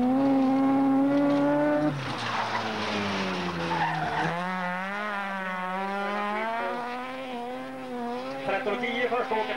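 A Volkswagen rallycross race car skids and revs hard on a gravel-and-tarmac track, its engine note rising and falling steadily with bursts of tire scrabble, loud and close, under a commentator's voice.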